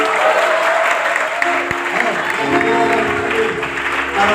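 Church congregation applauding in praise of God during a sermon gathering in Medan, a dense steady wash of clapping with voices mixed in and some tonal sound underneath.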